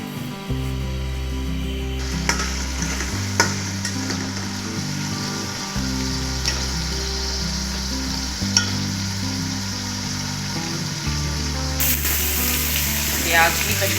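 Onions fry in cooking oil over a medium flame for chicken yakhni pulao, a continuous crackling sizzle with occasional stirring scrapes, under background music.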